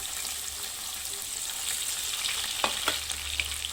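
Chopped onion fries in hot oil with crushed garlic tempering, a steady close sizzle with a couple of sharp spatters near the end, no voices.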